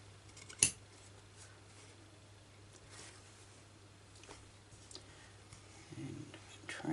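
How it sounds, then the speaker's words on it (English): Scissors trim patchwork fabric for crazy patchwork sewing, with one sharp close snip near the start, then quiet handling and faint rustling, with soft noises toward the end. "We just flip that over and trim that off."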